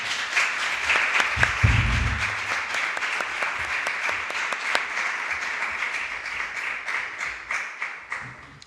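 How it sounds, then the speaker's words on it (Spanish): Warm audience applause welcoming a speaker at a talk, a steady crowd of clapping hands that swells early, then gradually thins and fades toward the end. "Le damos un fuerte aplauso."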